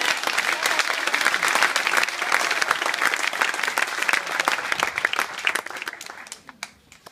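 A church congregation claps loudly and continuously for several seconds, dense and steady, thinning and fading out near the end.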